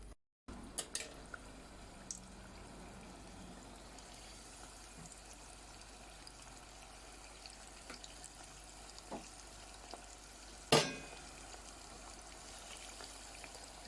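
Chicken frying in oil for a home-style fried chicken recipe with onion and garlic, a soft, steady sizzle with faint crackles and one sharper pop near the end, quiet and alone.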